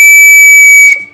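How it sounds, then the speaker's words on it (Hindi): A brass whistle sounds one loud, shrill, steady blast lasting about a second, then cuts off sharply with nothing else heard. "एक व्हिसल ये वाली भी आएगी,"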